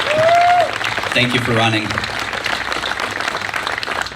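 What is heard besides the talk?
audience applause at a political debate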